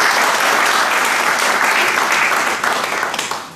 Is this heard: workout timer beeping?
no